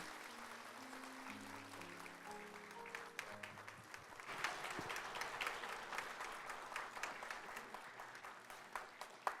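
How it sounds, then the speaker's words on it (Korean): Loud, steady applause from a large church congregation during a Sunday service, with dense clapping that swells partway through and continues to the end over a low background tone. "우리 큰 축하 박수 보내주세요."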